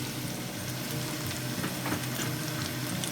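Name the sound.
garlic and spring onion frying in oil in a wok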